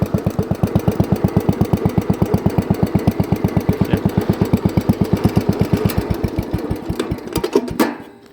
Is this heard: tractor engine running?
yes